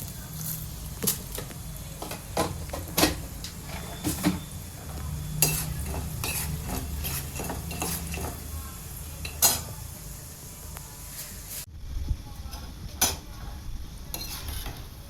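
Urad dal fries in a pan while being stirred, with repeated sharp scrapes and clinks of a spoon against metal over a low, steady sizzle.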